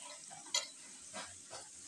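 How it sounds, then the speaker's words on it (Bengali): Ginger garlic paste added to onions fried until red in a pan: a faint, steady sizzle with a brief clink at the moment of adding, then soft stirring scrapes. "এখানে আমি আদা রসুনের পেস্ট দিয়ে দিচ্ছি।"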